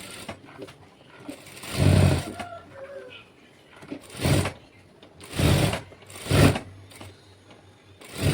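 A sewing machine stitches the lining of an umbrella frock made from a silk saree in short, whirring bursts separated by pauses, close and moderately loud.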